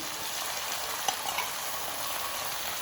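Crushed Bengal gram dropped bit by bit into hot oil on high flame, giving a steady, even sizzle with a couple of faint clinks, no voices.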